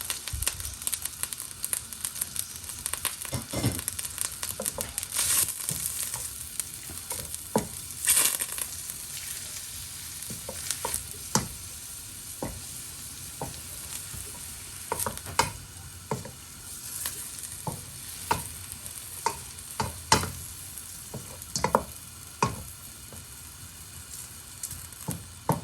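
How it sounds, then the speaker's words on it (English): Finely chopped onion sizzles in butter and oil over high heat, a continuous crackling fry punctuated by frequent sharp clicks and scrapes of stirring throughout, with no talking. "While the butter and oil is heating up, I'm going ahead and putting in the finely chopped onion, and I'm going to put the heat high and let it heat through."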